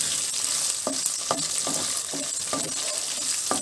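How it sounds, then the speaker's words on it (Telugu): Green chillies frying in a pan for a spicy puffed rice mixture, giving a loud, continuous oily sizzle with regular spoon knocks against the pan as they are stirred. "పచ్చిమిరపకాయలు కూడా ఇందులోనే వేసి"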